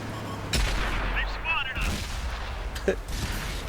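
Tank cannon fire in a tank video game, with a heavy boom, a second blast near the end and a low rumbling engine and battle bed throughout, loud and close with no speech over it.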